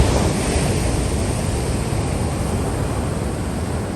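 Ocean surf on a North Shore beach in Hawaii, a steady, loud roar of breaking waves and rushing water with wind buffeting the microphone throughout, no voices.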